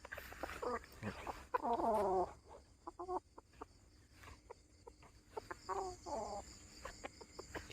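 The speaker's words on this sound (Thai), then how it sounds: "มีเสียงไก่ขันอยู่ทั้งหมด" A rooster crows in a long drawn-out call amid other scattered clucks and calls from nearby fowl, moderately loud over an outdoor background.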